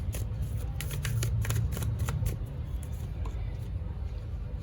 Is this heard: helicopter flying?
no